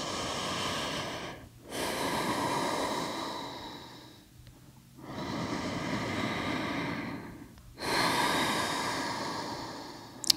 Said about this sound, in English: take a breath or two.